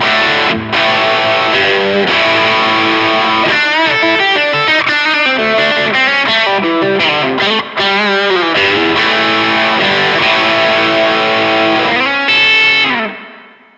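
An electric guitar runs by cable into a Blackstar HT20 MkIII amp, playing a loud, continuous distorted line with effects-coloured sustained notes and riffs, alone with no talking, then cutting off at the end.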